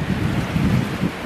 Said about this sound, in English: the wind's supposed to be gone, it's not gone.